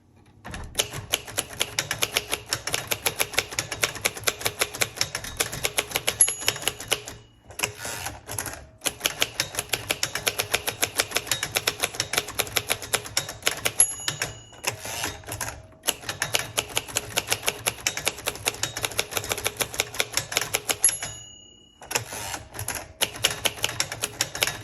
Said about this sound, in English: Okay, I'm really liking this typewriter.